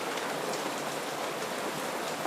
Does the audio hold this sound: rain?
yes